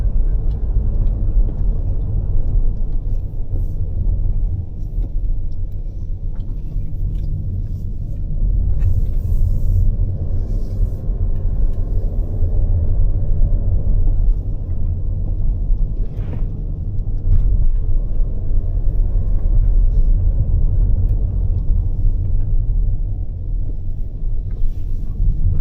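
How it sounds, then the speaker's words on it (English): A Toyota Innova HyCross cruises along the hairpin roads of the Charmadi Ghats, its interior filled with a steady, loud low rumble of road and drivetrain noise that holds for the whole stretch with no talking. "we're now driving through the Charmadi Ghats"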